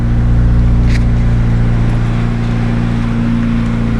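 An Acura Integra with a swapped-in B20 engine runs close by with a loud, steady, low idle rumble and a smooth, even drone throughout. No voices are heard.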